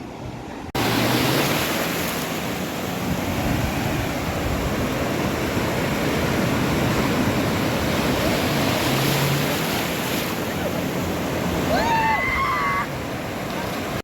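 Surf breaking on the shore at Malvan beach in Konkan, a steady loud broadband wash of waves and wind that runs almost without a break, with a faint voice and a brief squeak near the end.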